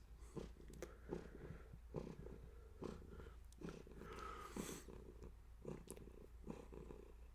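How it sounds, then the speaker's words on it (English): A cat purrs softly and close by in steady rhythmic cycles, each breath adding a gentle rumbling pulse. "He just lays and just purrs."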